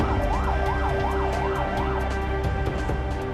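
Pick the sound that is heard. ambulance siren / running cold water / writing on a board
ambulance siren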